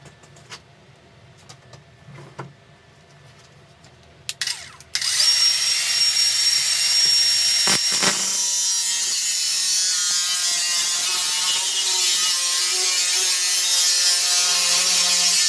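Cheap brushless angle grinder running on a Makita battery and cutting metal: a few clicks and handling knocks, then the motor spins up and holds a loud, steady, high grinding whine to the end.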